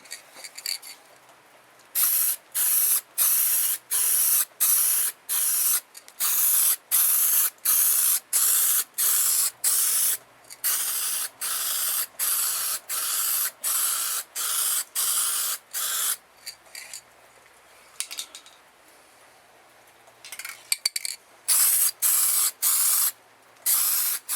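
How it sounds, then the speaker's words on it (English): Repeated short bursts of aerosol clear coat spraying, close and hissy, in a steady on-off rhythm with brief pauses between passes. "I'm going to spray the bottom parts with clear."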